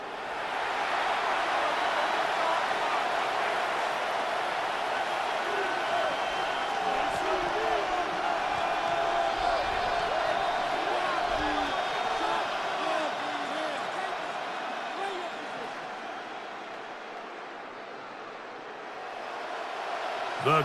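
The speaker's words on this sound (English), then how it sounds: "The crowd cranking it up another notch before 3rd and long" A stadium crowd in the Madden NFL 26 video game, at a Chiefs versus Broncos game, giving off a loud, continuous roar of cheering that swells briefly and then eases toward the end.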